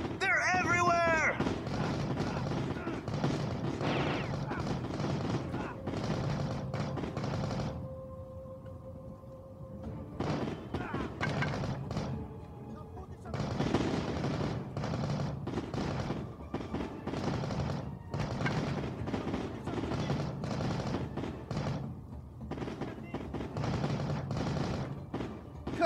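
Sustained turret gunfire from the video game Heavy Fire: Shattered Spear, dense rapid bursts and booms that keep pounding for most of the stretch with a brief lull in the middle, loud and continuous.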